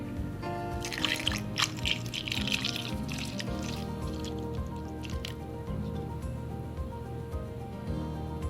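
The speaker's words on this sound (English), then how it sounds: "now my dad is going to just pour this in the mold, and he is using a funnel just so it doesn't get everywhere" Melted candle wax is poured through a funnel into a silicone mold, giving soft wet trickling and dripping sounds with a few squishy spurts over a steady background hum, fairly close and continuous.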